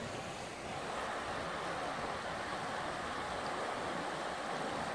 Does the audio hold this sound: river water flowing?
yes